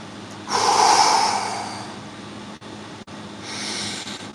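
Before a cold plunge, a person takes deep, forceful breaths close to the mic: a long rushing inhale, a pause, then another drawn breath, loud and alone.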